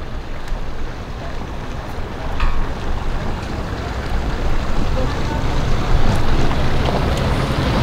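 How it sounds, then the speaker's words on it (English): Powerboats come in to the docks at Blackpoint, Miami on Memorial weekend, a loud, broad engine roar that builds steadily and mixes with heavy wind buffeting the microphone and water noise. "We got a couple boats coming in."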